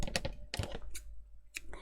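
Scissors snip a length of pink thread while a tassel is being made. There are several short, close, crisp clicks and cuts in quick succession.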